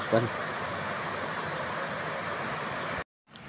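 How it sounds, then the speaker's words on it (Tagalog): Heavy water pouring down from a rain-swollen waterfall below, in Malagandis, Titay, Zamboanga Sibugay, as a steady loud broadband rush that continues unbroken before cutting out abruptly near the end. "Naririnig na natin yung ano, buhos ng tubig sa baba. Ang lakas ng buhos ng tubig."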